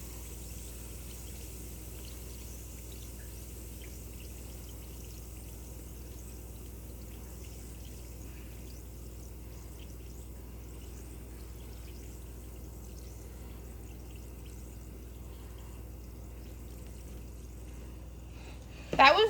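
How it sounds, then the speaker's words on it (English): Baking soda reacting in a container fizzes with a faint, steady crackle of bubbling, quiet and close, holding evenly throughout before a brief louder knock at the very end. "It went up quick, it died quick, but it still is bubbling."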